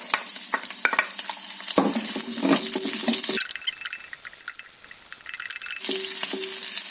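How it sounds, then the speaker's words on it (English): Onions tossed into hot oil for a Chinese takeaway-style hot garlic sauce, giving a steady close sizzle with stirring and clatter, quieter midway then loud again. "start off throwing the onions in there"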